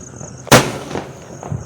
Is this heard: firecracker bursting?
yes